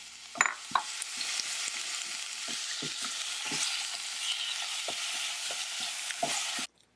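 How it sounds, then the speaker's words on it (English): Ground pork sizzles loudly and continuously as it is stir-fried, with repeated scraping and clinking strokes of a spatula against the pan in an uneven rhythm, close up, stopping abruptly at the end with no talk. "Isn't that sizzle sound super nice?"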